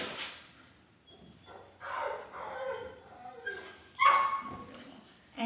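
Several dogs, including ones called Maxi and Bubu, give short yips and whimpering barks at a house, scattered across the moment with people talking around them.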